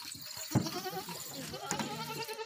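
A Makhi Cheeni breed goat at a livestock sale bleats briefly amid a noisy farmyard, a short call rising over background chatter and people talking nearby.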